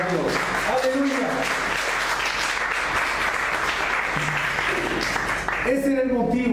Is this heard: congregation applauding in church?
yes